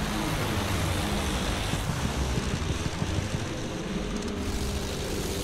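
Airplane in Battlefield 1 on the Empire's Edge map, a World War I setting, drones as a dense, continuous engine roar blended with wind-like noise, steady and fairly loud throughout, with no speech.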